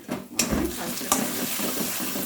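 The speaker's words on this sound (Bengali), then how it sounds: "আঁচটা আমি কমিয়ে দিয়েছিলাম, লো টু মিডিয়ামে রেখে মশলাটা ভালোভাবে কষিয়ে নেব।" Turmeric and spice masala stir-fried in hot oil on low-to-medium heat, with a steady sizzle and a few scraping stirs of a spoon against the pan, close and continuous.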